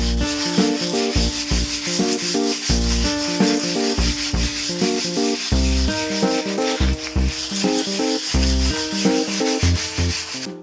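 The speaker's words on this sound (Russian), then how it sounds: "необходимо взять мелкую наждачную бумагу и хорошо отполировать, отшлифовать лицевую часть" Fine sandpaper rubbed in circles over the face of a wooden cutting board, loud close scratchy strokes in a steady repeating rhythm with brief pauses between passes.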